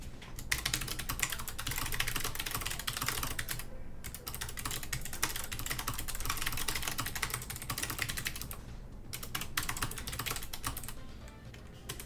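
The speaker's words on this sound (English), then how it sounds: "I'm sorry for my clickety-clack keyboard" Fast, continuous typing on a clicky computer keyboard, close and crisp, with dense rattling keystrokes broken by two short pauses.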